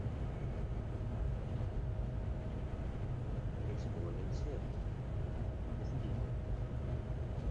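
A train climbs a steep grade on the West Coast Main Line North in Train Simulator 2018, giving a steady, dense rumble with a low drone that continues evenly throughout.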